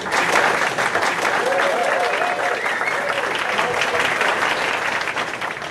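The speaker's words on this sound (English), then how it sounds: "I think we should give her a round of applause." Sustained applause from a gathered crowd at a family gathering in a restaurant, dense steady clapping that stays loud throughout with a faint voice briefly audible beneath it.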